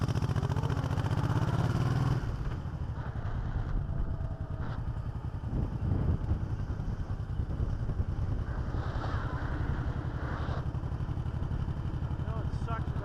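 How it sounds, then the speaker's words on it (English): Motorcycle engine recorded on a GoPro during a ride, a continuous rumbling drone with buffeting wind noise throughout, loud and close, with a louder surge at the start. "Well, at least the audio on the motorcycle motor was picked up."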